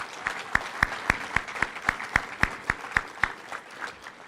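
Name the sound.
audience round of applause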